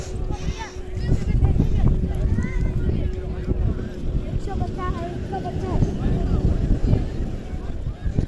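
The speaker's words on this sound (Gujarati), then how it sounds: "પેલો ઘોડો જો કેવો ઊંચો થતો હતો હે બે પગે હે ઘોડો કંટ્રોલ નથી થતો જો" A horse near the beach at Somnath, Gujarat, with rhythmic hoof clip-clops over a busy outdoor wash of wind and crowd noise, while people talk nearby.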